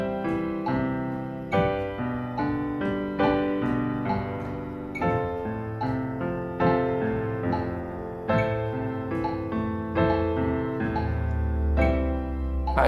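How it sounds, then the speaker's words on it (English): Left-hand piano exercise of repeated block chords played at a steady, even pulse alongside a metronome, the chords ringing continuously and connected with no speech. "with the metronome, it'll sound like this"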